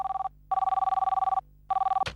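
A telephone rings early in the morning, its electronic bell trilling in two long bursts with a short gap, then a third burst cut off by a click as the handset is picked up.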